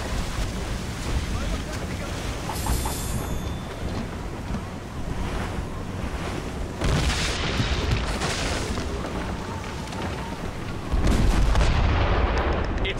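Heavy mortar fire in the game Assassin's Creed Rogue booms repeatedly amid roaring wind and crashing sea spray, with a loud burst near the end; no voices.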